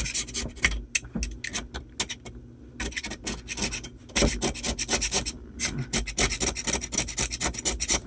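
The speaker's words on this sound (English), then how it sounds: "Go ahead and scrape all this stuff off here." Glue residue being scraped off a RadioShack 8-inch woofer, a steady run of close, raspy scraping strokes with brief pauses, heard alone with no talk.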